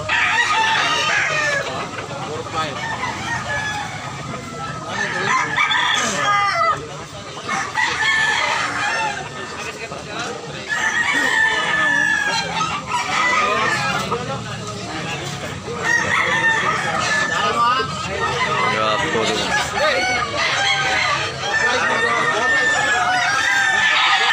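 Chickens and roosters on a farm crow repeatedly and cluck throughout, several birds close by and loud, crowing calls overlapping in irregular bursts over a busy background of clucking.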